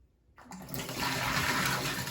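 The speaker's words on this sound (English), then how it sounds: "and all the water is gonna come piling out" Water gushes out of a tilted jar during a water-properties lab demonstration, starting abruptly after a short near-silence and pouring in a steady rushing splash that holds to the end.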